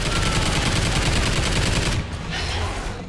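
Dense, continuous rapid gunfire in Call of Duty Ghosts while fighting the Breeder, loud and close, easing slightly toward the end.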